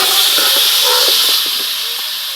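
Sugar and olives, with the water drawn from the sugar, hiss steadily in a hot wok while making olive pickle. The broad, loud hiss sits close and fades slightly toward the end, with faint clinks underneath.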